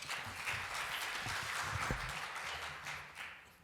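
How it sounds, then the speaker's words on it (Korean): Audience applause welcoming a speaker, a startup founder turned investor, onto the stage at a startup ecosystem session. The clapping is moderate and steady and continues for the whole span. "예, 박수로 맞아주시기 바랍니다."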